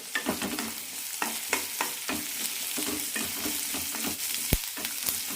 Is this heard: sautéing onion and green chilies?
yes